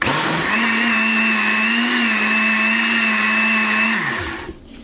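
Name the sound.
blender mixing baghrir batter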